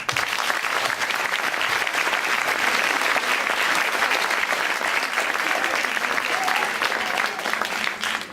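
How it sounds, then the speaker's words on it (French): A hall audience at a student competition final gives a jury member sustained, full applause, dense and even throughout with no speech over it. "je vous demande d'applaudir en guise de jury Guillermo Guise"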